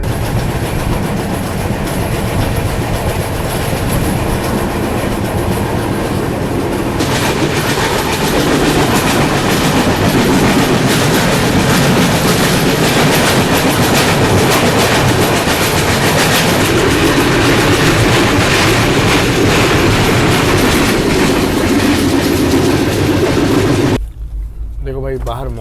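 The 10103 Mandovi Express passenger train running from Mumbai to Goa, a loud, continuous rumble with rhythmic clickety-clack of wheels on rails, heard from inside the coach, with some faint talk.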